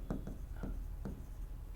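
A pen writes an equation on paper in a few short scratchy strokes, faint and close, with quiet pauses between them.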